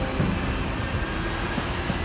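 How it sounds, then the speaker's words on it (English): The four big engines of a Super Galaxy aircraft spool up together, a loud, steady jet whine with a rising high tone over a broad rumbling roar, continuous and close. "Right now they're starting the engines. There are four, they're big, and they take some starting."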